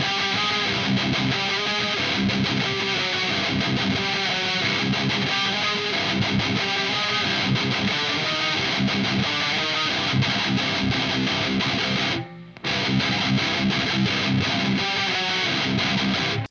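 Electric guitar played through an EVH 5150 Iconic amplifier with heavy distortion: dense, chugging riffs with palm-muted rhythm, loud and close, running continuously apart from a short cut-off near the end before the playing resumes.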